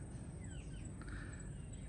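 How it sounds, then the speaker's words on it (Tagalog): Myna bird calling outdoors on Marinduque island, a few faint, brief chirps and squawks over a low steady background rumble, distant and quiet. "Kaiba yung mga ibon dito. Mayna ata to, eh."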